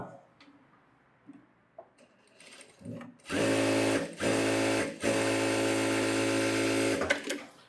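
A tailor's sewing machine stitches a sleeve lining in three quick, loud, close bursts with short breaks between them, after some soft handling noise and brief talk.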